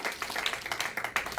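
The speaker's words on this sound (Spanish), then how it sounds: "Dele palmas al Señor," A church congregation claps for the Lord in worship, a dense run of crisp hand claps with uneven rhythm from a crowd, steady and moderately loud throughout.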